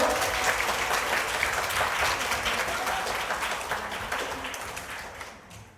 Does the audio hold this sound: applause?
yes